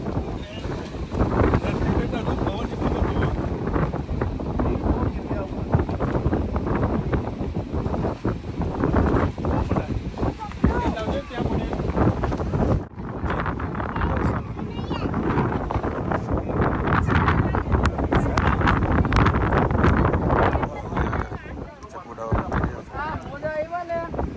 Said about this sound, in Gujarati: પવન જ એટલો છે